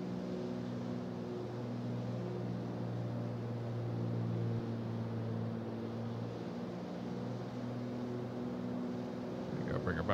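A simulated PA-28-181 Archer III piston engine drones steadily in flight while the mixture is leaned, with a low, even hum and slight wavering, and a voice talks faintly over it.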